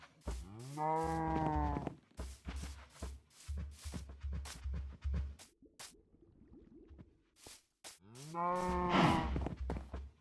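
Cow in the Minecraft video game mooing, two long, loud, clear moos at the start and end, with scattered footsteps and clicks between them and no talk.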